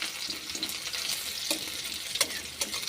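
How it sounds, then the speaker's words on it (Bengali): Sliced onions fry lightly in a pan for a potato chorchori, giving a steady close sizzle with a few sharper crackles and stirring scrapes throughout. "পেঁয়াজটাকে একটু হালকা করে আমি ভেজে নেব"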